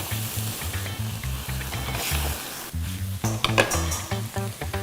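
Roasting button mushrooms sizzling hard in a hot pan as liquid goes in to deglaze, a loud close hiss with the low rumble of a stove and a few stirring scrapes.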